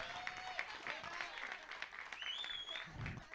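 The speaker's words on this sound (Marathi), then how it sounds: "खरंच जोरदार टाळ्या होऊन जाऊन द्या विशाल जाधवजींसाठी" Applause breaks out for Vishal Jadhav at a prize ceremony for a cricket premier league, steady clapping mixed with crowd noise and a voice over a public address system.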